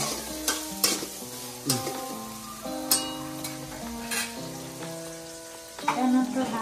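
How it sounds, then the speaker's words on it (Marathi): Peas roast in a pan for a cabbage samosa filling, with repeated scraping stirs at an uneven rhythm over a steady melodic background. "या पद्धतीने असा हा वाटाणा व्यवस्थित भाजून घ्यायचा."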